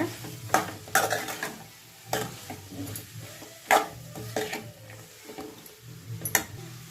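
Marinated paneer gravy mix frying in oil for a capsicum paneer curry, with repeated close scraping stirs and clicks against the pan over a low, crackling sizzle and short quiet gaps between strokes.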